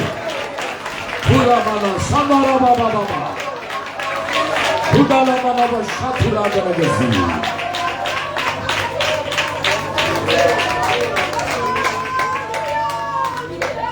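A church congregation claps hands together during a worship service, a steady run of rapid claps under a loud preacher's voice that rises and falls with speech.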